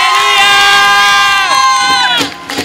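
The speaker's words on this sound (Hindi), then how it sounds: "और ताली बजा दो।" A church congregation at a Sunday meeting in Chamkaur Sahib erupts in loud cheering and whooping voices, held shouts that trail off into scattered noise near the end.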